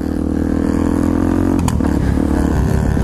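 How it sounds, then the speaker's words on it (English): A pit bike motorcycle engine revs steadily and loudly throughout while riding wheelies, with a rough, continuous drone and a short sharp clatter midway. "Big Mac Moto killing the wheelies"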